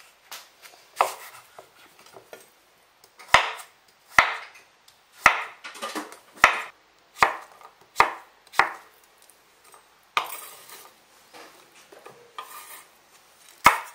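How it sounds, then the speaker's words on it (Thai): Knife chopping luffa gourd on a cutting board, a series of crisp, close, fairly regular strikes with short scraping slices between them; no talking. "เสร็จแล้วก็หั่นบวบค่ะ"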